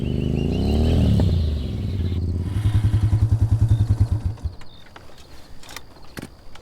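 A motorbike is ridden, its engine first droning smoothly, then chugging with a rapid, regular pulsing that slows and fades, followed by scattered clatter.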